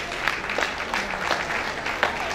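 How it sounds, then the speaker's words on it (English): Summit audience claps for a group being honored, a dense crowd applause with a few sharper individual claps standing out, steady across the short stretch. "can we give a round of applause for the P1 group?"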